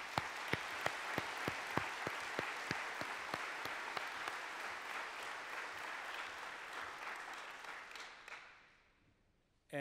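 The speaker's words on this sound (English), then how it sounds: "we have to welcome these new members in the union with a good applause" Assembly applause at the IAU General Assembly business meeting welcoming new union members: sustained clapping from a large hall audience with a few sharp louder claps early on, fading out near the end.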